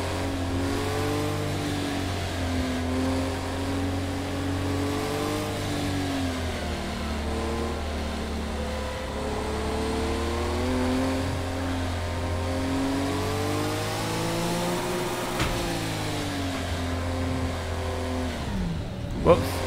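Porsche race car engine in Project Cars 2 droning loudly and steadily, its pitch rising and falling through gear changes over about twenty seconds, with someone talking over it.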